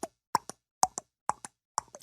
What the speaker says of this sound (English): That was tennis sounds.